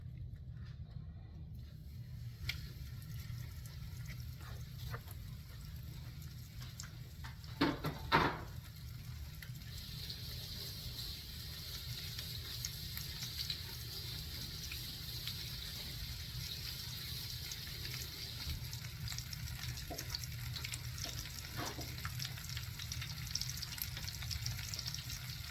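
A pot roast settles into a hot pot with a soft, continuous sizzle and faint crackle, a few light clunks early on, quiet and steady with no speech.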